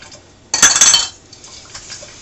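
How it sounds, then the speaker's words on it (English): A spoon clinks and scrapes briefly against a mixing bowl while sugar, eggs and vanilla are stirred together, a sharp half-second burst of metallic chinks followed by faint quieter scraping. "we're just going to stir that until it's all incorporated and it's nice and smooth"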